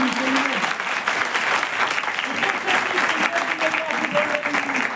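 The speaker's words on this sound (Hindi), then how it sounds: "तालियां तो बजा दो भाई।" An audience claps loudly and steadily at a Teachers' Day celebration, a dense sustained round of applause with some voices faintly mixed in.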